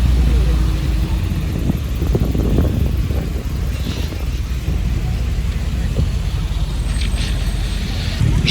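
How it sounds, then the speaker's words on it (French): A Jaguar C-Type sports car drives past on a Monaco street, its engine a loud, steady rumble over heavy traffic noise, with people talking nearby. "Jaguar type C, magnifique."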